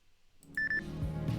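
A phone in the indie video game localhost gives a short run of three bright electronic beeps in quick succession, followed by low rumbling game ambience.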